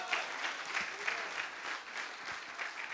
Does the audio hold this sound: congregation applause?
yes